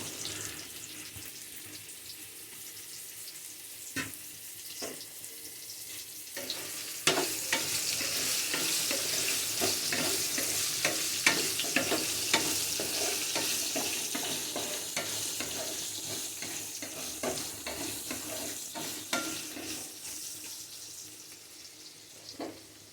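A steady sizzle of bottle gourd pieces frying in a pan with tempering spices, with repeated scraping and stirring clatter through the middle, continuous and close.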